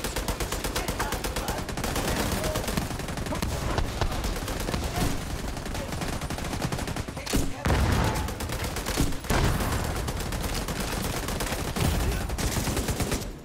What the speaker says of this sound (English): They love shooting at me.